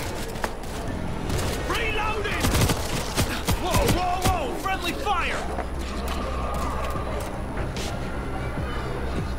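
Gunfire in the World War Z video game crackles in rapid bursts and single sharp shots, loud and close, over a background of game noise and shouting voices.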